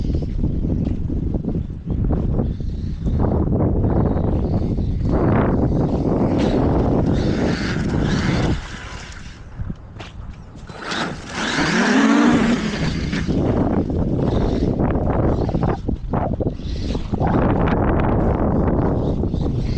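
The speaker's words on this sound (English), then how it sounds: "Traxxas Maxx, Proline Dumonts, Traxxas paddle tires on the rear." A Traxxas Maxx RC truck fitted with Proline Dumont tires and Traxxas paddle tires on the rear tears through snow, its motor whining and roaring steadily and loud for the whole stretch, with wind buffeting the microphone.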